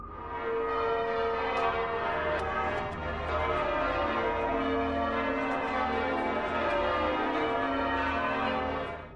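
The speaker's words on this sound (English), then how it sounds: "The bells are ringing and the cameraman is taking it all in." Minster cathedral bells ring continuously in a dense, overlapping peal, loud and sustained throughout, with no voices.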